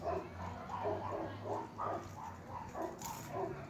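A ten-week-old Miniature Pinscher and Deer Head Chihuahua cross puppy yips in a string of short, high, rapid barks and whimpers, faint and close, with a playful rhythm.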